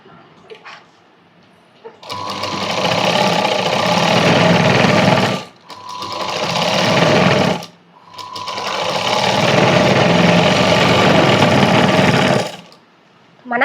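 A sewing machine stitches a cross-cut blouse in three long, steady whirring runs, each several seconds long with brief pauses between them, loud and close with no talk.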